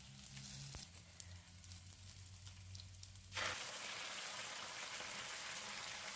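Fenugreek and onion curry sizzling in a pan, a steady quiet frying hiss that jumps to a louder, denser sizzle partway through as a ground paste is added.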